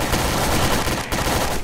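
Rapid automatic gunfire in Garry's Mod fills the moment, a dense, loud, continuous burst of shots with no voices over it.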